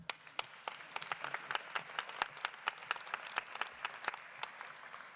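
Audience applause at a college nursing pinning ceremony: scattered, distinct individual claps ringing out in a hall, fairly sparse and moderately loud, with a soft crowd murmur beneath.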